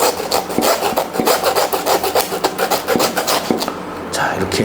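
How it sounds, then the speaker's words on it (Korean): A hand saw rasping back and forth through pork rib bone while a front leg is deboned, with rhythmic close strokes and a gritty crackle as the cut finishes. "끝날 때쯤 되면 지직 하는 소리가 날 거거든요."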